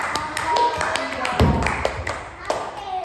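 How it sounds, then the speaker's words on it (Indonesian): Small classroom group claps briefly, a short run of uneven light hand claps close by, with a teacher talking over it. "Beri tepuk tangan untuk"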